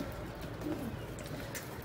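Soft pigeon cooing murmurs through a steady outdoor background on a terrace, low and gentle over a couple of seconds.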